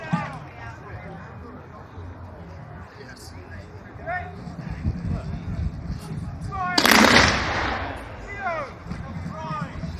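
A Napoleonic musket volley fires at a reenactment display of arms, a loud, dense burst crashing out partway through over crowd babble, with scattered shots and a voice announcing before and after.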